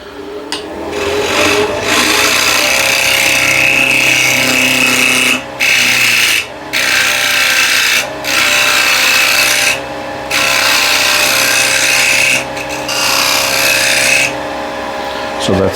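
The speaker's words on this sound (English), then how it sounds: "put this on the lathe like this, and I make a tenon on this side real quick" A wood lathe turns a bird feeder blank while a tool cuts a tenon, making a steady scraping, rasping whir broken by several short pauses, loud and close.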